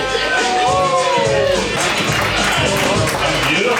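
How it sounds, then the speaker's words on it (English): Comedy show audience giving a round of applause, dense clapping and crowd noise filling the whole stretch with a steady, loud wash and some cheering mixed in. "I want you to give a round of applause"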